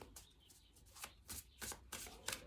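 Tarot cards being shuffled by hand, a series of soft, crisp riffling bursts repeating every half second or so, close and fairly quiet with no talking.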